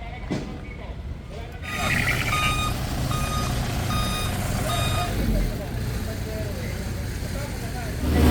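Tow truck at a roadside clearing operation sounding steady, evenly spaced reversing beeps over a loud diesel idle and traffic noise, with people talking nearby.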